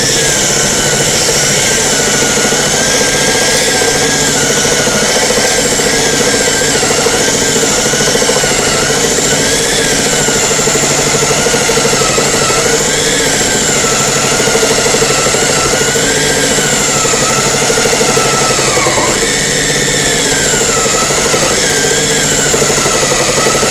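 A belt sander runs continuously on acetate frame material, a loud, close, steady motor whine with a slight wavering pitch and no pauses.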